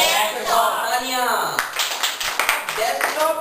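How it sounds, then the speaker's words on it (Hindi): A classroom group claps in short, uneven bursts during a Hindi computer lesson. A teacher's voice speaks over much of the clapping, which is fairly close. "तालियां।"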